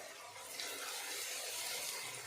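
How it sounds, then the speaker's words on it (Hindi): Water poured into a pot of cauliflower and meat curry, a steady hissing splash of running water lasting a couple of seconds, close and continuous with no voice over it. "अब मैं इसमें थोड़ा सा पानी डाल दूँगी, हाफ कप से थोड़ा कम डाला है।"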